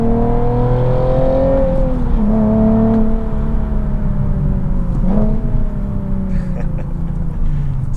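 Nissan 370Z Nismo fitted with an AAM resonated short-tail exhaust accelerating hard, a loud, aggressive engine note rising steadily in pitch across several gear pulls, heard close and continuous.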